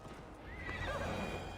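A horse in the Viking-era game Assassin's Creed Valhalla gallops with a rapid clip-clop of hooves and gives a rising whinny partway through, fairly faint and close, with no talking.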